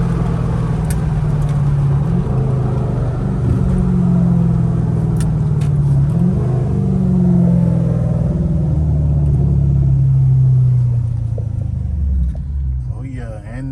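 A 2012 Dodge Charger R/T accelerating hard, with a loud, steady low engine rumble that builds and holds for most of the stretch, with voices heard over it.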